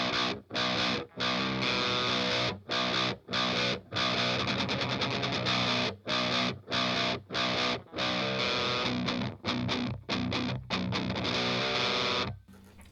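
Heavily distorted electric guitar in drop B plays a song intro, with chugging, chopped chords separated by brief stops in a driving rhythm, loud and close with no voices.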